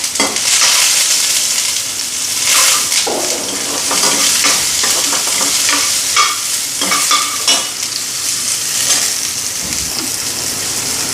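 Cut eggplant hits very hot oil and fries with a loud, crackling sizzle, punctuated by repeated stirring and scraping strokes, close up and continuous with no talking.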